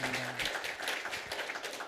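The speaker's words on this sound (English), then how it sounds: "And let's clap for him. Let's clap for him." An audience at a live talk event claps together for about two seconds, a steady dense patter of many hands filling the room, with a brief voice at the very start.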